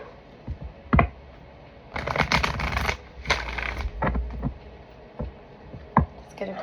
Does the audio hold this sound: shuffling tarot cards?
yes